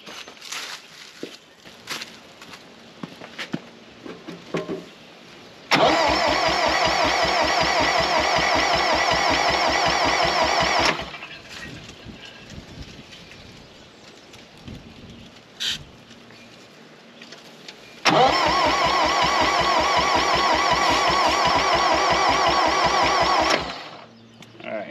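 A 1960 John Deere 1010 backhoe engine starts twice and runs, each time a loud, steady rapid chugging that lasts about five seconds before cutting out, with quieter clanks and handling noises between the runs.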